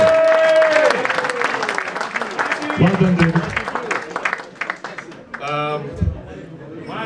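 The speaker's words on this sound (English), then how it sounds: "Big round of applause." Guests at a cricketers' reunion dinner applaud steadily, moderately loud, with a few shouts. A voice calls out over the clapping, which thins near the end.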